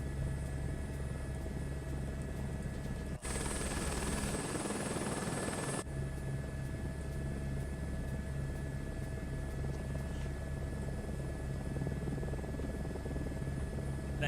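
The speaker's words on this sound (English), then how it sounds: "Little bird helicopter." A Little Bird helicopter in Microsoft Flight Simulator, heard as a continuous rotor and engine drone with a steady low rumble. A brief broadband rushing swell breaks through for a few seconds.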